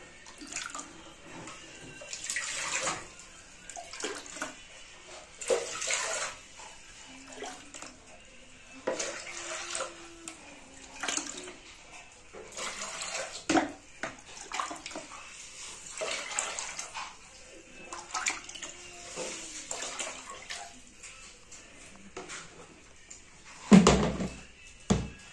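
Water runs from a tap in a kitchen while Mozambican tea is prepared with tea leaves, flowing in intermittent bursts with clinks of dishes and pots, fairly quiet and close.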